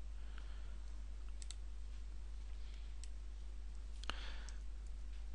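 Computer mouse clicking: a few sharp, isolated clicks spaced irregularly over a low steady hum, with no speech.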